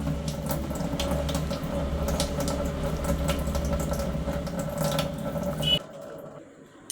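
Water runs from a sink tap for several seconds while a face is washed with a foaming cleanser, a steady close splashing that stops abruptly near the end.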